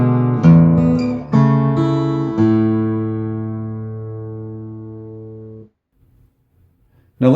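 Fingerstyle guitar plays a short passage from Randy Newman's When I'm Gone, several plucked chords and notes struck in sequence, the last left ringing for a few seconds before silence and a faint touch at the end.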